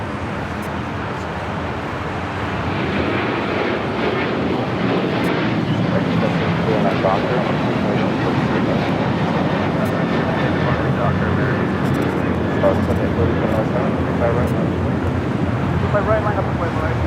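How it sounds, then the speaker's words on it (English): An Airbus A320 inbound from JFK lands on runway 24 right at LAX, a steady broadband jet roar that swells slightly after the first couple of seconds and holds throughout, with a voice talking over it. "It's an A320. It's a flight coming in from JFK,"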